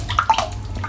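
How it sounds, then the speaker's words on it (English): A 30mm shaving brush is dipped into water, giving a short close splash and slosh with a couple of quick swishes that fade within a second. "So let's get it dipped in the water."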